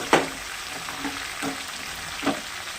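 Vegetables and soaked chickpeas frying in a pan, a steady soft sizzle broken by a few spaced stirring scrapes, close and moderately quiet with no voices.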